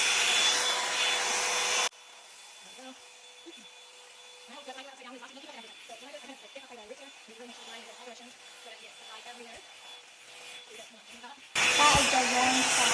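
A Revlon One Step hair dryer and volumizer brush blows steadily for about two seconds, cuts off while a person talks quietly, then roars back on near the end.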